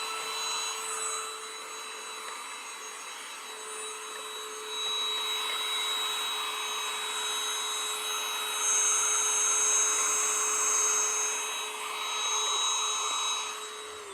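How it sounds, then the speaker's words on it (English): A small handheld vacuum runs steadily for the whole stretch, cleaning fluff out of a Babylock Vibrant serger, its whine close and loud with slight rises and dips as the nozzle moves. "I'm also going to be using my little vacuum that I have here, and I'm going to vacuum out."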